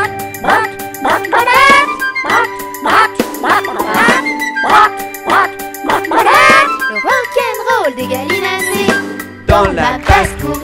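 Cartoon-style farmyard duck quacks come in quick, repeated bursts, mixed with bright, tonal music from a children's song.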